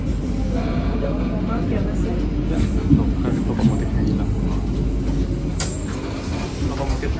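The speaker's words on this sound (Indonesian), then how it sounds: "Nah itu muter lokomotif." A heavy, constant low rumble of a locomotive rolling along the tracks nearby in Indonesia, with faint metallic squeals and clicks rising above the steady roar.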